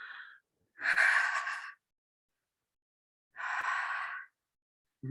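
Open-mouthed breathing during a guided pelvic-movement exercise: two long, breathy exhalations, each roughly a second, separated by silence, close and fairly soft, with a brief intake at the end.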